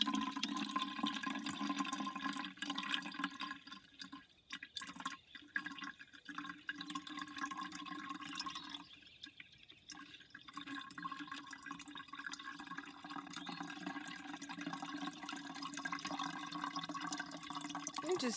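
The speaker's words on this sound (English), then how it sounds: "The strainer then goes on the first pitcher, and now it's time to start draining." Vietnamese coffee drains through a strainer into a pitcher as a steady, soft trickling stream of liquid that goes on throughout, faint and close.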